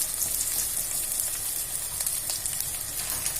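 Drumstick leaves frying in hot oil for a Telugu chicken-egg curry, a steady broad sizzle and crackle running evenly throughout, close and moderately loud with no voices.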